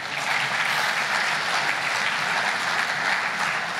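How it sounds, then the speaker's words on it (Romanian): A church congregation applauds baptism candidates at a service, a dense, steady wash of many hands clapping together that stays even and loud throughout, with no talk over it. "Aplaudați"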